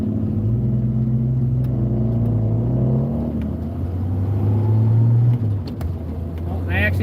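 A Kawasaki Vulcan motorcycle engine rumbles with a deep, steady low drone that swells slightly mid-way, loud and fairly close throughout.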